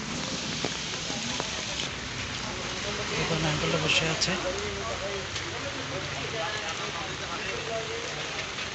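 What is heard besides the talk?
rain falling on a morning road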